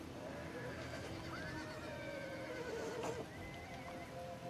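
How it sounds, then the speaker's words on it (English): Horses whinny and neigh amid a Total War: Rome 2 battle, several rising calls standing out over a dense, steady roar of fighting and movement, with faint hoof clatter underneath. "Look at how many horses we're taking out."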